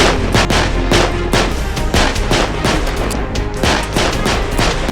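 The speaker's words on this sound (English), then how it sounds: "We see Jonathan training to become a police officer, which involves a lot of shooting guns." Dense, loud gunfire in a film's police training scene, with rapid repeated shots cracking in quick succession and almost no pause throughout.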